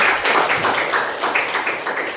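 A classroom of students applauds a presenting group during a teaching practice lesson, a steady wash of clapping with fairly loud, even rhythm.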